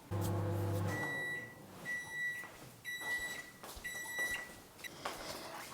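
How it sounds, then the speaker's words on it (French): A microwave oven runs for five minutes heating a vegan protein breakfast; a low hum stops, then a series of bright beeps rings out in short repeated bursts. "Et ça part 5 minutes au micro-ondes."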